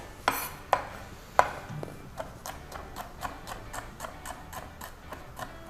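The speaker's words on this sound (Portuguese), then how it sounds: "Vou picar o alho." Garlic being chopped with a knife on a board, a series of sharp, fairly faint taps, a few spaced strikes first and then a quicker, even rhythm of light knocks in a quiet kitchen.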